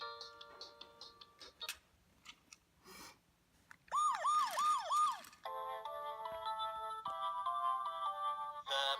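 A Vtech Toot Toot Drivers toy police car plays a few short electronic beeps, then a warbling siren, followed by a steady two-tone electronic melody, loud and close with no talking.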